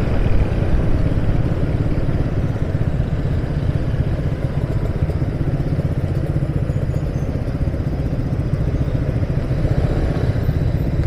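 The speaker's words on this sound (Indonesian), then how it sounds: "Lihat ini perkumpulan motor-motor di sini." A crowd of motorcycles gathered on a Bandung city street, with steady idling and revving engines and mechanical clatter forming a continuous, fairly loud drone throughout, with no talk.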